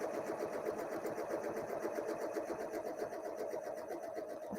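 A sewing machine stitches a quilt while a quilting ruler guides the line, a continuous close mechanical whir with fast rhythmic needle ticking running evenly throughout.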